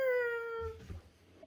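A voice imitates a cat's meow: one drawn-out, falling meow sung close to the listener, followed by faint soft rustling.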